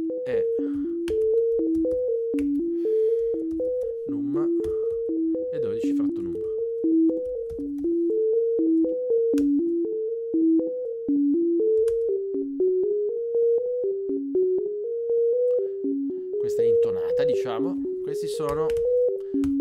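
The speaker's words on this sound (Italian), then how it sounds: "Una nuova melodia a quarti di tono." A SuperCollider-synthesized quarter-tone melody plays as a clean, pure electronic tone stepping through a steady, repeating pattern of closely spaced pitches, with brief talk near the end.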